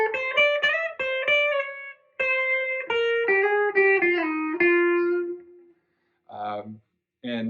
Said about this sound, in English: Go to the bridge pickup itself, you start to get into that very quacky type of sound.